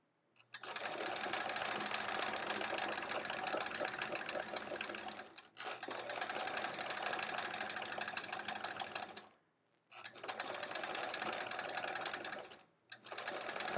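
A sewing machine free-motion quilting a quilt block, running in three long bursts of steady, fast needle chatter, with short pauses in between and no talking.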